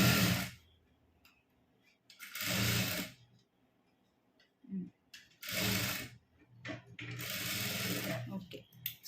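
A sewing machine stitches a churidar top sleeve in short bursts, a quiet mechanical whir starting and stopping several times, close and fairly faint.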